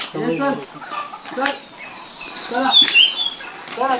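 Chickens cluck and squawk in short bursts nearby, one higher squeal standing out, amid a busy poultry farm murmur.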